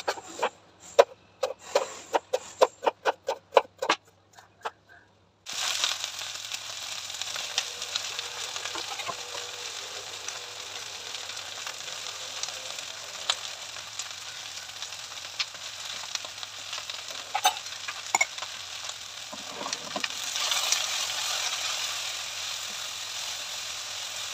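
Okra and onions stir-fry in a pan, opening with a few sharp ladle taps before a steady loud sizzle takes over and continues, with occasional scrapes.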